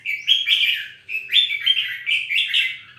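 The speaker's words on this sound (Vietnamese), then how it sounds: "đây là chim của Khải Vân Đình" Pet bird chirping after a bath, a busy run of bright, close chirps and short trills in quick bursts with tiny gaps, heard clearly with no voices.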